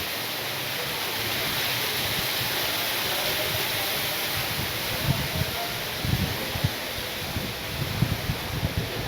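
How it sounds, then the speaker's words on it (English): Steady gusting wind roars across the microphone, a broad continuous rush with low buffeting thumps growing stronger toward the end. "As it gets quite windy at this specific spot."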